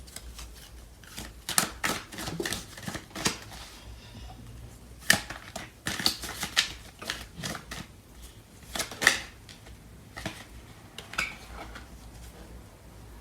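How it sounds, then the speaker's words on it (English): Tarot cards are shuffled and drawn at close range, giving a string of irregular papery flicks, snaps and riffles that come and go over several seconds with no talking. "So I'm going to clarify these cards"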